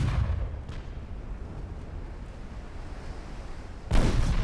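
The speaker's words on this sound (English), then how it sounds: "And the big guns and the torpedoes." Warship big guns fire during a naval battle in a video game, a loud deep boom at the start, then a long rumbling tail and a second heavy blast near the end.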